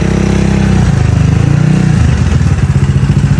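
A motorcycle ridden solo by a young rider named Roxel, its engine close and loud with a steady, rough putter that shifts pitch as it revs and idles.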